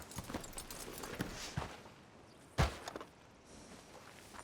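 Horse hooves clip-clopping in the video game Red Dead Redemption 2, a quiet, steady series of hoof falls at walking pace with one louder thud midway, faint and fairly close.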